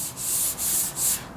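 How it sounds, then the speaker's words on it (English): Block sanding on the bodywork of a Civic hatchback being readied for paint: three long, gritty rasping strokes, each a steady abrasive hiss separated by brief pauses, heard up close with no talking. "that's the whole point of block sanding, just to get that nice flat surface"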